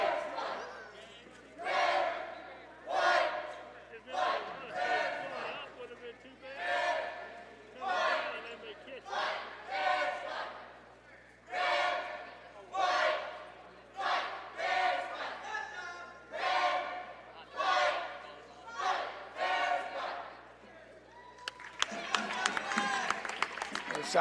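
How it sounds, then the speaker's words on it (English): Basketball game crowd in a gym chanting and cheering in rhythmic surging waves, roused by cheerleaders, with a burst of clapping and noise at the end; no clear speech over it. "We get the honor of seeing the cheerleaders as they continue to pep this crowd up."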